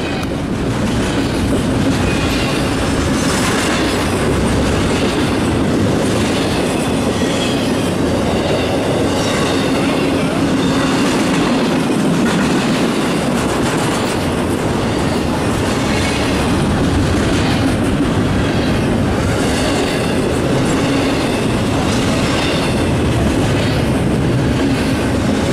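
CSX freight locomotives, among them an ex-Conrail unit and the CSX website unit, roll past on the rails with steady loud wheel clatter and rumble over the whole stretch, with no voices.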